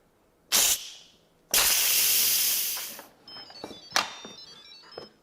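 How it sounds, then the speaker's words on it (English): Hot steam hissing loudly out of the vent of a pot of cooked lentils, in two strong bursts, the second sustained for about a second and a half before tapering off, followed by softer clicks and a faint beeping tone. "Now it's time to switch it to vent. Be very careful because the steam is really hot."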